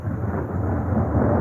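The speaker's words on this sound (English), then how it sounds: "this is like a major electric storm" Thunder from a major overnight electric storm rolls as a continuous deep rumble mixed with rain, loud and steady throughout.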